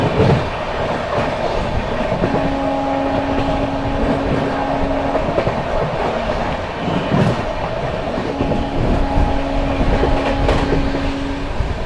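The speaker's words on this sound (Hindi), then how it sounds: "मिर्जापुर एंड ओवरटेक करेगी बरौनी गोंदिया एक्सप्रेस को" The Barauni Gondia Express is overtaken on an Indian railway line, with a continuous loud rumble and clickety-clack of wheels on rails and no talking.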